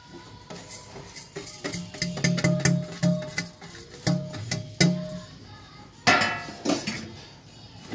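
Sesame seeds are stirred into melted jaggery in a pan for Bengali til chikki, with an irregular run of close metal clanks, taps and scrapes of a spoon against the pan.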